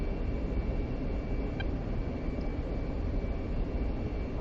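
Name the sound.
jet aircraft braking on runway after landing, DCS World video game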